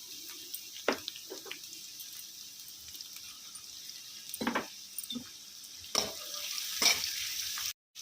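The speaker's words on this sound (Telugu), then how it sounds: "కరివేపాకు కూడా వేగిన తర్వాత కట్ చేసుకున్న ముల్లంగి వేసేసుకుందాం" Cut radish frying in a pan with curry leaves, onions and green chillies for a radish-leaf tomato curry, giving a steady hiss broken by a few louder stirring scrapes.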